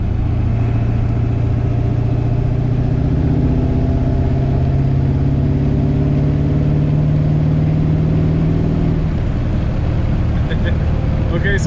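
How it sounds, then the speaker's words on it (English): A Ford 7.3 diesel truck pulls hard at full throttle in fifth gear from highway speed, a loud, continuous engine drone and road roar heard from inside the cab, steady and unbroken. "Okay, so I'm gonna do a 5th gear pull. I'm starting from 55 miles an hour. and I'm just gonna punch it."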